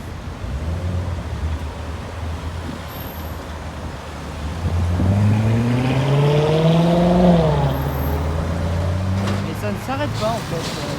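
A red Porsche Turbo S sports car drives past on a city street in Luxembourg, its engine rising from a low rumble to a revving pass-by and then fading under traffic noise while people talk excitedly nearby.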